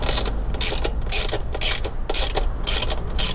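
Ratchet loosening bolts on a KTM 890 Adventure R motorcycle, close and loud, giving about eight quick rhythmic clicking strokes in a steady back-and-forth pattern.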